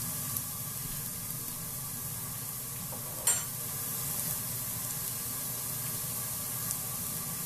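Garlic sizzling in a pan while cooking canned store-bought greens, a steady broadband hiss held close and even throughout, with one brief clink midway and no talking.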